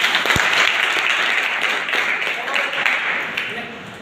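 Loud audience applause at an event, sustained clapping from many hands filling the whole stretch, with a sharp thump near the start and gradually tapering toward the end.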